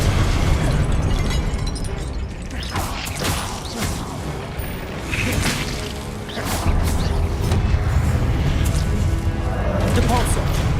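Confringo spell blasts in the Hogwarts Legacy video game go off as loud, repeated bursts and booms over a dense, continuous game soundscape, with voices mixed in.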